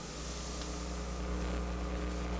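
A computer's electromagnetic field, heard through a homemade EMF detector, gives a continuous low electrical drone mixed with grainy static noise, fairly even in level throughout.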